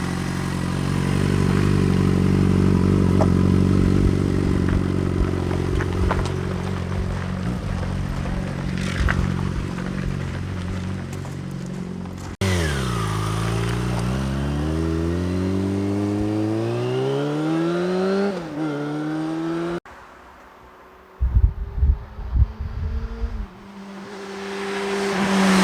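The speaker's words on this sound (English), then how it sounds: "First test drive, Mark. Let's get this baby back on the road." A rebuilt salvage Yamaha FZ6 motorcycle engine idles and revs on its first test ride, pitch rising and falling through throttle blips and gear changes, loud and close, with a few clattering knocks near the end.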